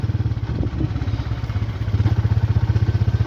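A motorcycle engine chugging at close range in a village garden, a rapid regular thumping idle that rises slightly as the bike rolls up and comes to a stop.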